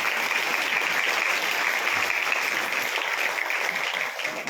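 An audience at a church gathering breaks into steady, dense applause that holds for several seconds before easing slightly at the end, with no talk over it.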